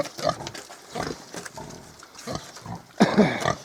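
Hungarian Mangalica piglets grunt and snuffle repeatedly in short irregular bursts, close by, with a louder cluster of squealing grunts near the end.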